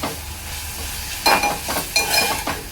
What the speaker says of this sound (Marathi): टोमॅटो मी तेलावर परतून घेतलेला आहे